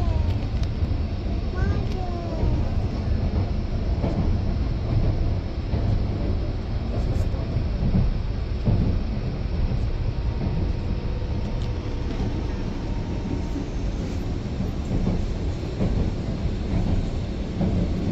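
Train passing by in Japan in winter, a continuous rumbling roar of rail cars that holds steady for the whole stretch at moderate distance.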